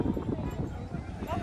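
A horse runs past with quick, soft clip-clop hoofbeats, muffled and fairly close, partly masked by people talking.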